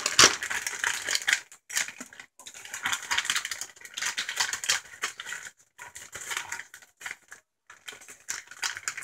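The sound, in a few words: cutting open a plastic bag of cheese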